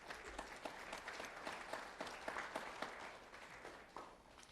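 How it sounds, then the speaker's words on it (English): At a student recognition event, an audience gives a round of applause. The clapping is steady and textured with distinct individual claps, fairly quiet and distant, and tapers slightly toward the end. "So let's have a round of applause for Lee County Electric Cooperative and Alli"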